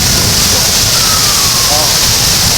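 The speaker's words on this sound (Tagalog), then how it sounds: "Ang ragasa po ng tubig." Rushing floodwater in Marikina during Typhoon Carina, a loud, continuous roaring wash of fast-moving water filling the scene from start to end, with no gaps.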